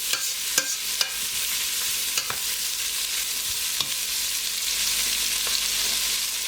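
Beef wet fry cooks in a single pot, giving a steady broadband sizzle throughout, with a few sharp clicks and scrapes from stirring at irregular moments. No voices are heard.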